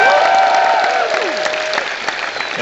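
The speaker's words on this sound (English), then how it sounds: "And now, a big special round of applause for Jack Patella!" Steady applause from a convention audience at a Rooster Teeth panel at PAX East 2011, many hands clapping at once in a dense, continuous wash that fades slightly toward the end.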